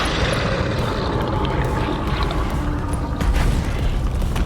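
A BattleTech mech fires its full complement of weapons, a loud roaring barrage of booming blasts that runs continuously and swells near the end.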